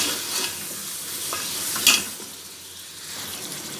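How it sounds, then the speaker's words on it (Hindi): Mutton pieces frying with golden fried onions in a pot, a steady sizzle with scraping stirs and a sharp clank of a utensil near the middle, close by and without talking. "गोश्त ऐड करके इसको 5 से 6 मिनट भून लेते हैं।"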